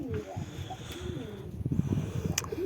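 Several pigeons, newly acquired birds kept in a loft, give low, repeated throaty coos close by, with some faint chirps and rustling around them.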